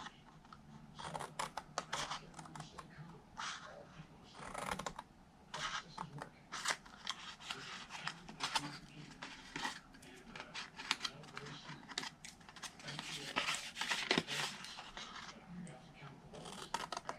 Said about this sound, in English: for the whole bottom, I'm just going to cut really close to the score line on each side